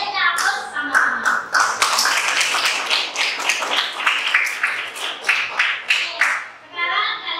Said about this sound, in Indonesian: Ayo kita aplaus sama-sama.